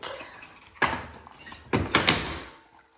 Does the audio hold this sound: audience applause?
no